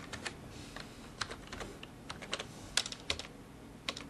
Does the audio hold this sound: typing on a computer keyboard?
yes